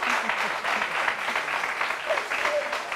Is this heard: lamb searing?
no